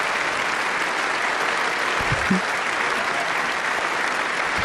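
Large audience clapping through a Trump address, a thick unbroken roar of applause held at an even level, with a brief low thump partway through.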